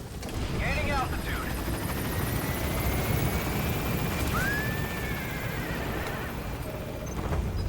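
Helicopter in Metal Gear Solid V: The Phantom Pain taking off and gaining altitude, a steady loud rotor and engine roar filling the clip, with brief game sound effects and radio chirps over it.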